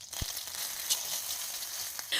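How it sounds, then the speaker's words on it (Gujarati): Mustard seeds, cumin, asafoetida, dried red chilli and curry leaves sizzle in hot oil with a steady, bright crackling hiss, opening with a low knock from the pan, heard close and alone. "એક પેનમાં તેલ લઈ તેમાં રાઈ જીરું, હિંગ, સૂકું લાલ મરચું અને મીઠો લીમડો નાખી મસ્ત વઘાર કરો."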